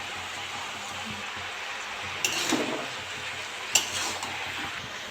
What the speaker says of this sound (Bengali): বাঁধাকপিগুলো সব দিয়ে দিয়েছি, আস্তে আস্তে নেড়ে নেবো